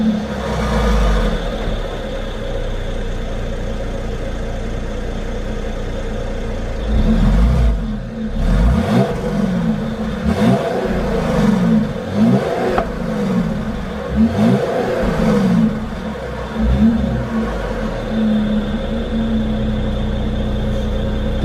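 2016 Mercedes-Benz GLE 350 exhaust note as the SUV accelerates, a steady engine hum rising into several surging revs with shifting pitch, loud and close with no talk.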